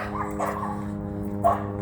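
Dogs barking outdoors during a walk, a few sharp yips and woofs over a steady low background hum, fairly close, with one louder bark near the end.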